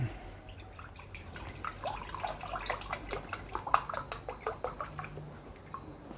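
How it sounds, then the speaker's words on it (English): Milk is poured into a measuring cup in a home kitchen, giving faint, quick trickling and small splashing drips over a quiet room. "I measure 1 cup of milk."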